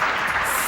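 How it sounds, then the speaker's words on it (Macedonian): A short, steady wash of crowd applause played as a sound effect by a radio director, even and moderately loud with no talk over it. "Аплауз режија"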